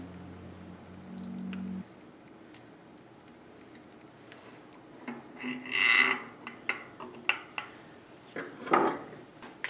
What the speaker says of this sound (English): we're going to drop the other ball bearings in